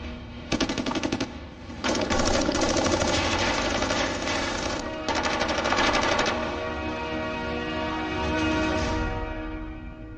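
Rapid machine gun fire in a Somalia 1992–93 war film scene: several loud, dense bursts of automatic fire with a low rumble of engines or helicopters underneath, continuing with brief pauses.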